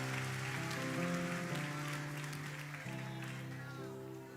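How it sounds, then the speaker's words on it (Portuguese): Church congregation applauding during an evangelistic service, a steady wash of clapping under sustained musical tones, with a shift in the music partway through. "Aplauda o Senhor com todas as suas forças."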